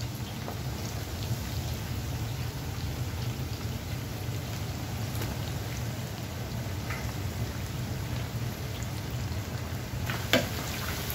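Chicken wings fry in hot oil, a dense, even sizzle like steady rain, close and continuous with occasional small pops.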